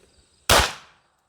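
A single loud Sig P211 pistol shot close by, a sharp crack at about half a second that decays over roughly half a second, with no talk around it.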